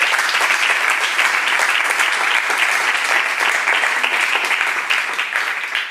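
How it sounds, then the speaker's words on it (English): A crowd at a cleantech startup final event breaks into loud, dense, sustained applause that carries at full strength for several seconds before easing slightly at the end. "Please, round of applause for them."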